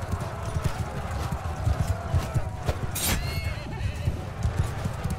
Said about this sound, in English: All horses charge as well.